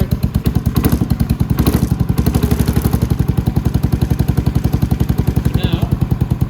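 A Venom X22GT 250cc automatic motorcycle engine idles close by with a fast, steady thumping beat and rattly mechanical clatter, running evenly throughout.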